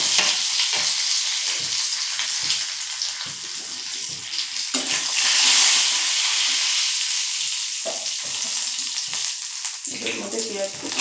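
Whole cumin seeds sizzle and crackle steadily in hot oil in a home kitchen pan, a bright continuous frying hiss with a brief stir near the end, no speech.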